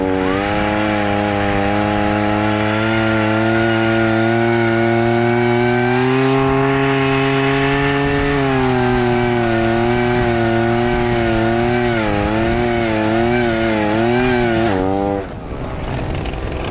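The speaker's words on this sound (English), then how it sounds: "the goal of what I was doing with the chainsaw was to get out these big chunks, these huge branches" Chainsaw cutting through big tree branches during trimming, a loud, steady high-revving engine drone that wavers in pitch under load for most of the stretch before easing off at the end.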